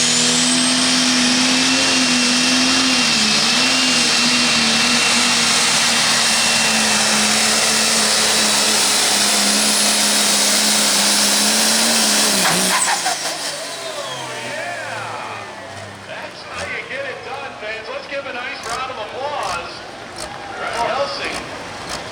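A 10,000 lb class pulling tractor's engine roars loud and strained for several seconds while dragging a sled at a tractor pull, then cuts off, leaving a rougher, quieter rumble and noise as someone talks.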